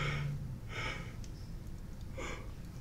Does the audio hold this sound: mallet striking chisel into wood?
no